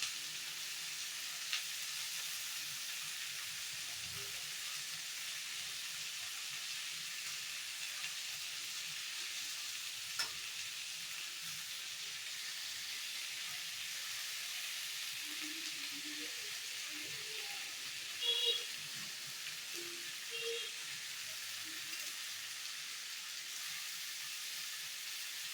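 Tomatoes cook in a pan for tomato pachadi, giving a faint, steady sizzle with soft low simmering and a few small stirring knocks, continuous with no talking.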